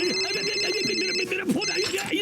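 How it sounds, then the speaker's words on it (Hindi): A mobile phone ringing in a cartoon scene, a bright repeating electronic ringtone that sounds close and clear, with voices and sound effects around it. "मेरा फोन आ गया, ये तो बजने लगा।"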